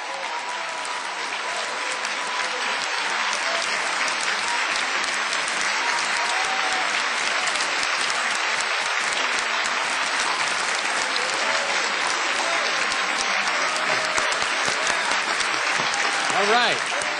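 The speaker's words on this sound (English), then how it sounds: "You should give them a round of applause." Sustained loud applause from a large political-rally audience at Take Back America 2006, steady dense clapping filling the whole stretch with crowd noise and no speech over it.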